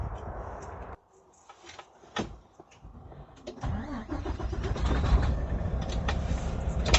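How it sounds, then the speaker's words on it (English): Truck engine cranking and catching during an air brake inspection, a starter whir giving way to a rising, rumbling idle that grows steadily louder and stays running close by. "Now we're gonna go back and start our truck again."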